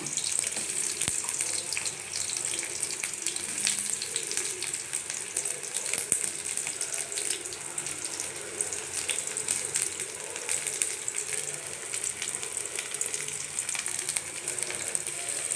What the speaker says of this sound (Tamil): எண்ணெய் கொஞ்சம் ஊற்றிக்கலாங்க ஆனியன் போட்டுக்கலாம்